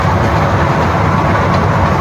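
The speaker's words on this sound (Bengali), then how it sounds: "ট্রেনগুলো ভালো করে চলে" A small amusement park train ride at a resort in Khulna runs continuously, producing a loud, close, steady engine drone and rumble with no pauses or talk.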